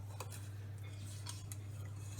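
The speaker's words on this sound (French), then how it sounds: "Tu ramasses bien toute la farine avec le fouet." A whisk scraping and tapping against a bowl while flour is folded into chocolate muffin batter, with light irregular clinks and scrapes over a steady low hum, close and fairly quiet.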